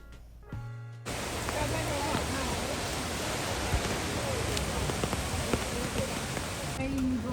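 Heavy rain pours down at Jeongbang Waterfall on Jeju, a dense, loud, steady hiss that swells in after a quieter first second and holds throughout.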